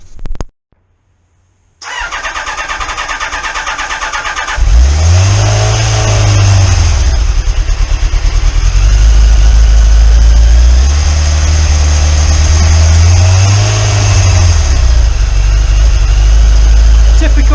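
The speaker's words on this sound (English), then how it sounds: "Kawasaki revs its balls off." A 1988 Kawasaki ZX10 motorcycle engine with a weak battery cranks and catches, then idles roughly before revving up and down twice, loud and close.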